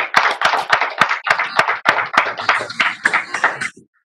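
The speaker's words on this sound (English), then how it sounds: "Please give a big round of applause to Aruna," Clapping for the session chair at a virtual product showcase event: a steady run of about a dozen sharp, evenly spaced claps, fairly close and loud, stopping abruptly near the end.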